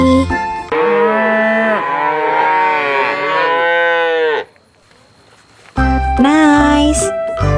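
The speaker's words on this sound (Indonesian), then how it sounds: "Ini hewan sapi." Cattle mooing in two long, loud, drawn-out calls separated by a short pause, close and clear with no talk over them.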